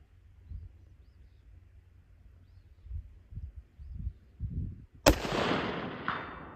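A single loud, sharp CZ Alpha 600 rifle shot fired outdoors at a 279 target, with a ringing tail, following several seconds of low wind and handling rumble.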